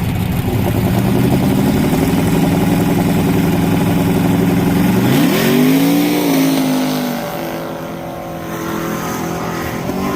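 Race cars at an ice drag racing event, including a twin turbo F10, loud sustained engine drone that rises in pitch and then falls away partway through, heard near and unbroken.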